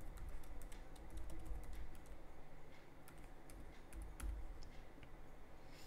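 Fast, light keystrokes on a computer keyboard as a password is typed, quiet irregular clicking that continues throughout with no talking.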